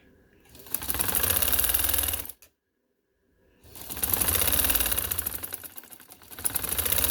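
A sewing machine stitches the border of a suit in two loud, close, rapid runs separated by a brief silent pause, its motor humming steadily under a fast needle chatter.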